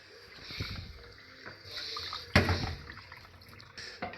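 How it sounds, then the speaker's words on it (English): Water poured into gravy mix in a mug, close and fairly quiet, with soft trickling and one brighter splash partway through. "Bit of water"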